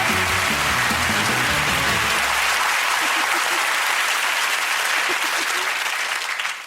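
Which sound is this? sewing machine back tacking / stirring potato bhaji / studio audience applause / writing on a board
studio audience applause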